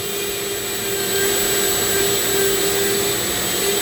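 A Ridgid shop vacuum with a freshly changed filter runs in a workshop, a steady loud whooshing roar with a faint high whine, constant throughout and heard alone.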